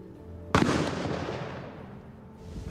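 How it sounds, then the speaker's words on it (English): A single sharp shotgun blast of a blank at a skeet shooting session, loud and close, its boom decaying over about two seconds. "I had arranged ahead of time to have the guns loaded with blanks"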